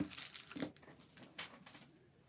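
Crinkling and tearing of plastic wrapping as a block of fluorescent pink polymer clay is unwrapped, several close, crisp crackling bursts that fade toward the end.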